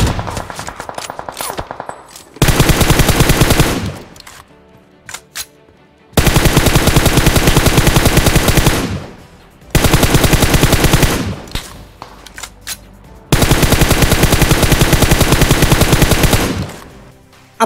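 Loud automatic gunfire in the shooter game PUBG Mobile comes in long sustained bursts, with several extended sprays separated by short pauses and scattered single shots close and dominant, with no talk.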